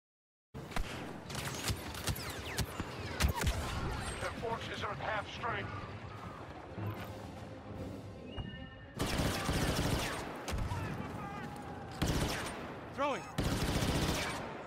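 Gunfire rattles through a combat video game, then several loud broadband grenade blasts burst out near the end. Players talk over the gameplay throughout.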